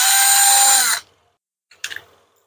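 A power screwdriver drives a screw to fasten parts together, one loud whirring burst of about a second that cuts off, followed after a pause by a brief mechanical clack.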